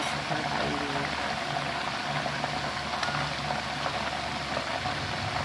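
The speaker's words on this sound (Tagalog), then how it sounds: "Buhos lang ito ng mantika." A whole chicken deep-frying in hot oil gives a dense, steady sizzle and bubbling hiss, close and constant throughout, with no talking.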